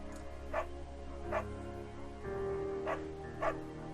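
A beagle in the video game Firewatch gives four short, soft yipping barks spaced a second or so apart over a faint sustained musical background, with no talk.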